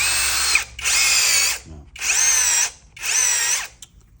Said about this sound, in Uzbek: Sho'rpayor, 10 tali sho'rplar bemalol tortib beradigan sho'rpayortimiz.